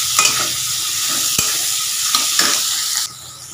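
Onions are stir-fried in a pan with a loud, steady sizzle and a few sharp scrapes and knocks of a spatula, until the sound drops abruptly near the end.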